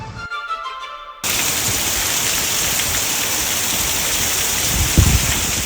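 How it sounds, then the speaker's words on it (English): Heavy rain pours down in Alabama near the Coosa River and Lay Lake, a dense steady roar that starts abruptly after a brief quieter moment and holds constant, with a low thump near the end. "Man, when it rains in Alabama,"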